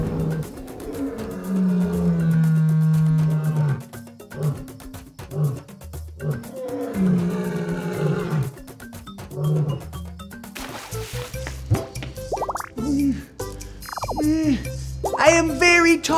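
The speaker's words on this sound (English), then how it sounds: "I am a giant cat with a big mane and a mighty roar" A lion gives a deep, rumbling roar in a children's zoo-animal learning show, loud and close for a couple of seconds, followed by a busy mix of other animal-like calls and sound effects.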